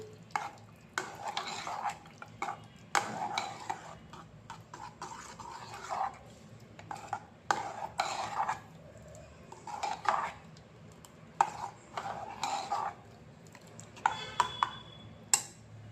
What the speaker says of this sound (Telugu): అన్నీ కలిసేలా మంచిగా కలుపుకోవాలి